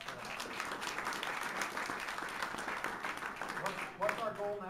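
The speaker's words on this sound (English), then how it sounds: "Everybody should give Emily a huge round of applause for that." An audience at a congressional campaign gathering for a candidate applauds a volunteer with sustained, even clapping from many hands, and a voice begins speaking just as it ends.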